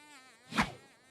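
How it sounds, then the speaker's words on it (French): An insect buzzes nearby, its whine swelling loud as it passes close at mid-clip and then fading, with no talk over it. "J'entends un insecte bourdonner pas loin"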